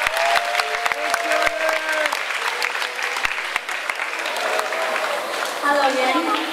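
An audience claps steadily throughout, dense and close, with voices and whoops rising over the applause.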